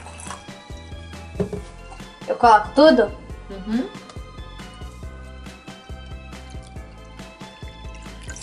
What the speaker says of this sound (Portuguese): Agora a gente vai colocar a água